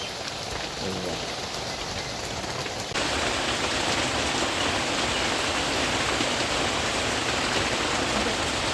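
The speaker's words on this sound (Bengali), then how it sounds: "বাইরে কতটা বৃষ্টি নেমেছে" Heavy rain pours down in a dense, continuous hiss, growing louder a few seconds in and drumming steadily on surfaces, with no speech.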